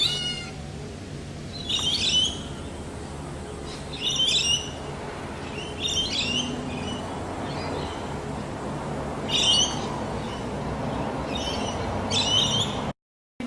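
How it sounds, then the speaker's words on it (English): Kookaburras calling outdoors at moderate distance, several short bursts of harsh chattering cackles spaced every couple of seconds over a steady background hiss. "Found them kookaburras."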